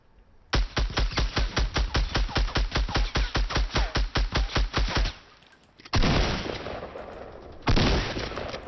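A long rapid-fire burst of automatic gunfire in the video game Fortnite, loud and close, followed by two further heavy blasts after a short pause.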